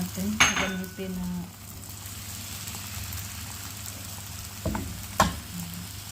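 An egg frying in a small pan gives a steady, gentle sizzle, broken by a few sharp knocks and clinks of utensils against the pan.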